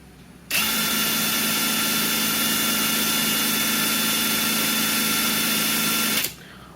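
A DCK KDPB488 cordless impact wrench spins freely at its low speed setting, a steady, even whine that starts abruptly, holds for about six seconds and stops sharply, with no voices.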